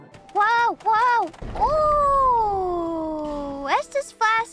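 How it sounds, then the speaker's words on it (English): A cat in a video game meows several times, starting with two short meows, then a long drawn-out meow, then quick chirpy calls, loud and close. "That's a cat!"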